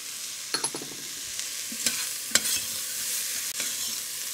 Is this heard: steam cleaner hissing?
no